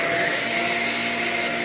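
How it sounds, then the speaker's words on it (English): A Shark Rocket self-cleaning stick vacuum cleaner runs steadily, giving a loud, constant motor whine with a faint high tone and no break or change in pitch. "So we're gonna vacuum right now, anyways, and get on with it."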